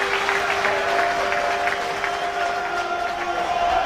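Football crowd at Falkirk in a 2002/03 match against Inverness cheering and applauding after winning their first corner, a broad steady roar with clapping, a commentator's voice faintly underneath.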